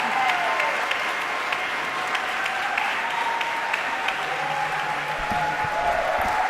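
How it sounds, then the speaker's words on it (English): Crowd applause at an immigrant rights rally on MLK Day, sustained and lively clapping with scattered cheers and whistles, holding strong from start to finish. "Let's give a big rousing applause for Sarah."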